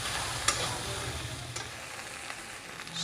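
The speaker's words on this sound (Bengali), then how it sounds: "হলুদের গুঁড়ো, দিয়ে কিছুক্ষণ আমি এটাকে ভাজবো" A Bengali taro and prawn curry base frying with turmeric powder, a quiet steady sizzle with spoon scrapes and a couple of sharp taps on the pan, no speech.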